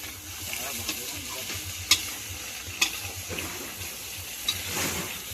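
Meat cooking in a pot at a night-time picnic sizzles after water is added, with stirring clinks and scrapes over a constant hiss.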